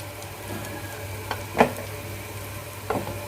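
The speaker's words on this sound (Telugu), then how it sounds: "మనం దీన్ని మరీ హైలో కాకుండా సిమ్లో కాకుండా మీడియం ఫ్లేమ్లో పెట్టుకుని వేయించుకోవాలి." Vermicelli (semiya) being stirred and fried in a pan over a medium flame, a low steady background with a few soft scraping stir strokes, fairly faint and without talk.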